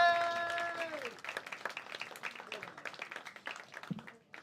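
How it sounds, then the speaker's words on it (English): A comedy club audience breaks into clapping with scattered cheers after a tonal chime-like sound fades, the applause dense and lively before tapering off near the end. "start clapping with a cheer"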